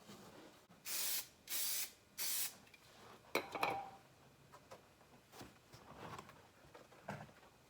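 Adhesive sprayed onto headliner fabric for a 2014 Ford Mustang S197: three short, loud hissing bursts up close, followed by softer handling and rustling of material.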